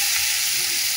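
Chopped onion sizzling in hot oil in a pan, a steady dense frying hiss throughout, close and fairly loud, with no talking.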